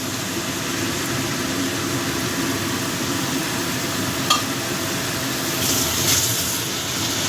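Crushed garlic hits hot oil in a pan over low flame for a Bengali dried-fish dopiaza, giving a steady mid-loud frying hiss with a brief clink and faint stirring, no talking.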